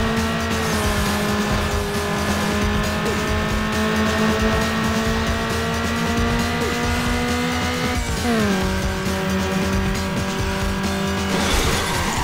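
Race cars in the video game Need for Speed Underground during a night street race, with a loud, continuous engine drone, a sharp gear change midway and tire noise, steady and up close without talk.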